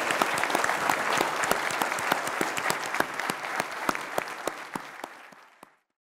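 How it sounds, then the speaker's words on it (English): An audience applauds a panel after a discussion on servicing spacecraft in space, a full, even round of clapping that carries for about five seconds and then fades out quickly. "let's give them all a big round of applause"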